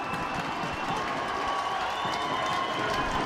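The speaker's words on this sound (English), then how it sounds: "Yeah, the fans standing up applauding the fight there." Ice hockey crowd at a Guildford Flames game, cheering and clapping after an on-ice fight; a continuous roar of applause and shouts from a large arena audience, fairly loud and steady.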